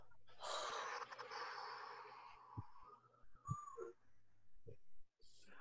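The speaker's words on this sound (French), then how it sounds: "On le refait tout doucement. Et on expire." A group doing a guided laughter yoga session breathes out slowly together, a long breathy exhale followed by softer, broken breaths and a few short snorts, close and fairly quiet.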